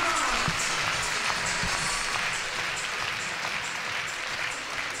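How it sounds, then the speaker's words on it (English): A crowd applauds after a clear round at the FEI World Cup driving final in Bordeaux: a steady, broad wash of clapping, sustained and fairly loud, fading slightly toward the end. "Je crois que ça mérite d'être applaudi."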